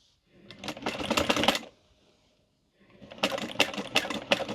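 A sewing machine stitches around a fabric wallet in two rapid whirring bursts, close and steady, separated by a pause of about a second.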